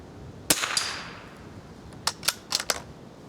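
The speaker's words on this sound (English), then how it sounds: "shoot that swinging target just below that squirrel there" A .22 rifle shoots at a swinging target outdoors: one sharp crack, then four quick, fainter cracks close together, with quiet between.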